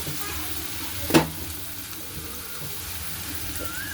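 Fried potato, eggplant and pointed gourd tipped into a hot pan of oil with dry red chili and nigella seeds, a sharp burst of clatter and hiss, then a steady sizzle underneath.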